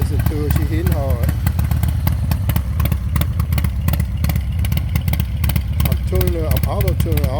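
A 2021 Harley-Davidson Softail Heritage Classic with a 114 engine and a 464 rocket cam runs loud and close with a lumpy, rhythmic throb, while a person speaks over the engine at times.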